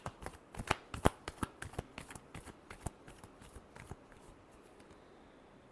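A deck of tarot cards is shuffled in a run of crisp riffling snaps and soft flicks, close and fairly quiet, tapering into stillness near the end.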